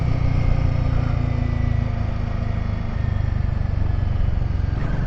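A Royal Enfield Himalayan motorcycle rides along the road beside Pangong Lake in Ladakh, its single-cylinder engine thumping steadily and close, with wind buffeting and a continuous rumble throughout, no talking.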